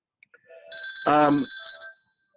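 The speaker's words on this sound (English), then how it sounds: "I won't answer that, so excuse the phone ringing." A telephone rings indoors: a single bright, tonal ring with steady pitched harmonics lasting just over a second, close and moderately loud, with a few faint clicks before it.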